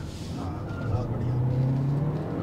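A BMW 2 Series Gran Coupe with traction control switched off accelerates, its engine rising in pitch as it revs up, a steady moderate drone heard from inside the car.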